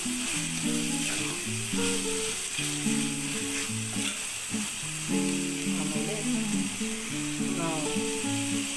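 Chopped capsicum stir-frying in a hot pan for capsicum rice, making an even close sizzle with occasional stirring scrapes, set against soft background music throughout.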